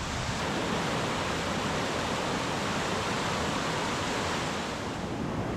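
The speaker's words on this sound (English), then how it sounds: "Oh, that's a roaring brook" Roaring Brook at Baxter State Park rushes in a loud, steady, unbroken torrent of broadband water noise, close by and with no voices.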